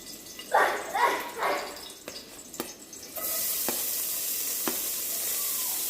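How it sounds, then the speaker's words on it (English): Onion and garlic go into a hot pan with a sudden, bright, continuous sizzle that holds steady, following a few seconds of quieter kitchen noise, speech-like sounds and knocks. "first I'm going to saute the onion and the garlic"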